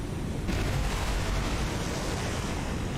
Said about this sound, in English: Oh, that explosion doesn't sound so good for her.